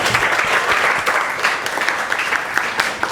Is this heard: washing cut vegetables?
no